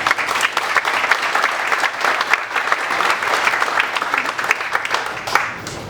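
A crowd applauds at the opening night of a new community cancer center. Steady, fairly loud clapping runs throughout with individual claps standing out, and no speech is heard.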